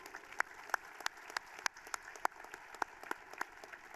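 Applause at a high school graduation ceremony for award winners, a moderate round of crowd clapping with distinct individual claps standing out in a steady, even patter.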